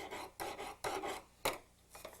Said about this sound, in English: File the piece that you put in, the fused part, just file that until it meets with the ring